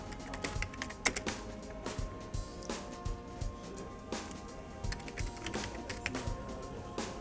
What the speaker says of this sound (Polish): i wpisujemy sobie trasę